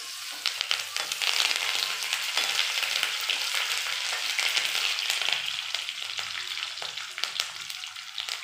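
Curry leaves, added after dry chili, crackle in hot oil for a tomato chutney. A loud, continuous sizzle with sharp popping and spitting carries on without pause, and no one talks.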